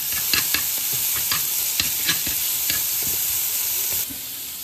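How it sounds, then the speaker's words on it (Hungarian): Freshly drained, still-steaming cooked pasta is stirred into a hot cheese sauce for homemade mac and cheese, giving close, wet sticky squelches and scraping stirs in a loose rhythm over a faint sizzling hiss. "És akkor így hozzárakjuk ez a sajtszószhoz a tésztánkat."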